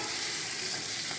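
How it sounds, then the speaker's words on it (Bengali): Sliced onions sizzle and crackle in hot oil in a pan for potato hilsa pulao, a steady, close frying hiss lasting just over a second, with no voices. "এবার পেঁয়াজ দিয়ে দেবো।"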